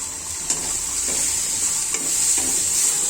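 Prawns stir-fry with onion, garlic, ginger and tomato in a pan, giving a loud continuous sizzle up close with a few spatula knocks and scrapes.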